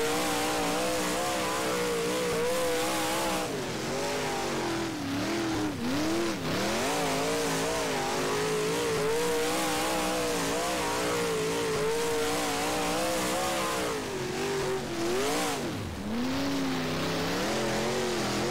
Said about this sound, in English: Got a car on my tail, I can hear it.